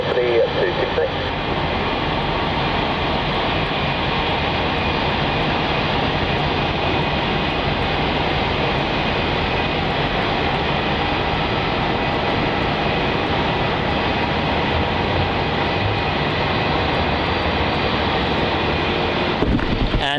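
A jet airliner roars steadily on approach to land at Melbourne Airport, a loud continuous engine drone lasting throughout, with radio chatter from air traffic control underneath.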